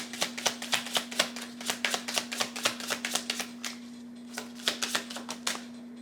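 Tarot cards are shuffled by hand in a rapid run of crisp riffling snaps and taps, a short pause, then another burst, all close and fairly quiet over a faint steady hum.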